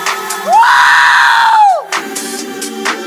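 A party crowd at a birthday celebration with a DJ breaks into a loud, sustained collective scream and cheer for about a second, then settles into lively chatter and shouts.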